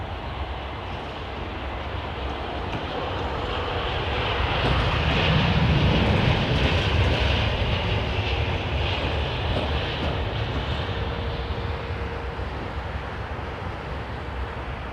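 Aircraft at London Heathrow Airport, a steady broadband jet engine roar that swells to a peak mid-clip and then eases off slightly while staying loud and continuous, with no talking.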